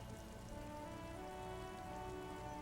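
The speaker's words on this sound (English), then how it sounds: "Rain falls onto the roof of a woodshed." Steady rain falling onto the roof of a woodshed in a yard in the video game Disco Elysium, a dense continuous patter with no voices.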